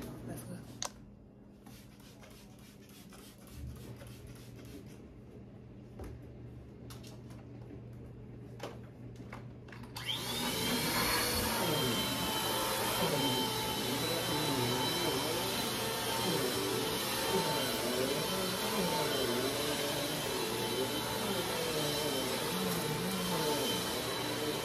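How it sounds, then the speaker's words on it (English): A household vacuum cleaner switches on partway through after a quieter stretch with faint handling noises, then runs as a loud, steady, broadband roar for the rest of the time. "So now I'm about to vacuum"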